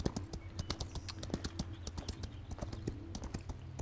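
Dutch Warmblood hooves clip-clop in a horse-riding video game, a quick, steady run of sharp, close hoofbeats mixed with light clicks that could be keyboard typing.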